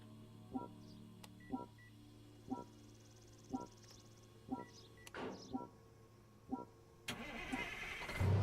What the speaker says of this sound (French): on entend des moteurs démarrer avant que la mission commence